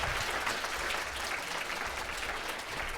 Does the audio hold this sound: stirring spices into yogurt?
no